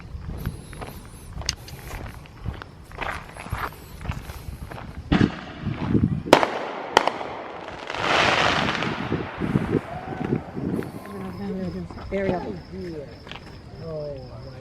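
Firecrackers and fireworks at a lakeside at sunset, heard as a run of sharp separate pops and cracks, some loud, with a fizzing crackle in the middle and outdoor background noise.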